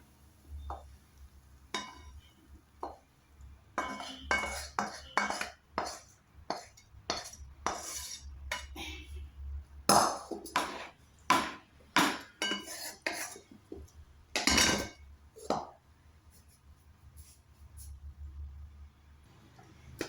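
Cooked mixed vegetables being scooped from a pot into a bowl, with a series of close metallic clinks and scrapes of a spoon against cookware in an otherwise quiet room.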